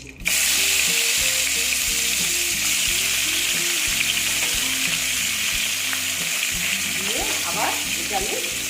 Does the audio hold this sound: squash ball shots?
no